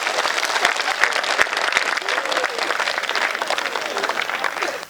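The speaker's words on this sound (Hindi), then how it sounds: "ये एक बार दोनों हाथ ऊपर उठा के तालियां बजाओ।" A kavi sammelan poetry crowd claps with both hands raised, producing loud, dense, continuous applause that holds for the full five seconds, with some crowd noise mixed in.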